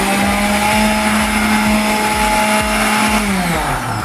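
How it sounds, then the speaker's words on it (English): A kitchen blender runs steadily on milk, a loud continuous motor whir with a slight pitch drop near the end, heard alone without talk. "Hear those great sounds of Brenda blending"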